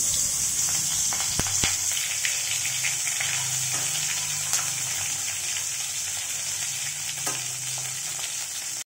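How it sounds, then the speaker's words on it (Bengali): Tangra fish fry in a pan with a constant loud sizzle and hiss, broken by occasional clinks and utensil scrapes. "তো আমি ওর জন্য আগে ট্যাংরা মাছ ভেজে নিচ্ছি"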